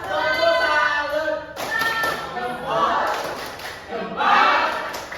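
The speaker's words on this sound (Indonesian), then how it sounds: "Kasih tepuk tangan dulu." Primary school pupils clap together in a classroom during a lesson, several bursts of applause running under a voice as she leads them, with a short pause between rounds.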